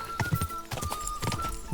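Horse hooves clip-clopping in a steady rhythm in Kingdom Come Deliverance II, close and clear, carrying an old rider, with a brief whinny-like tone in the game audio.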